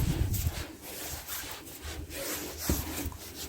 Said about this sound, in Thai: ฟันเลื่อยมันค่อนข้างจะคมมากเลยนะ